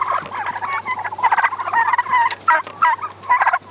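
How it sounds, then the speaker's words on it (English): A pastured flock of broad-breasted white turkeys gobbles in loud, close, overlapping bursts. The rapid warbling calls repeat almost continuously over a low steady hum. "These are actually a broad-breasted white turkey"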